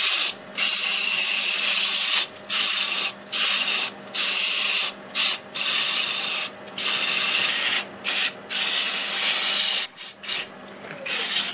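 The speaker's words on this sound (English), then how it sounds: "See if we can sand this. I think it'll hold good enough. This is 120 grit." A wood turning on a lathe is sanded with 120 grit sandpaper, giving a loud, steady hissing rasp in repeated bursts of one to two seconds broken by short pauses, with the lathe hum running underneath.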